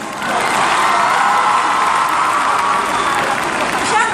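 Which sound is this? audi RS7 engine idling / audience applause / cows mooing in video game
audience applause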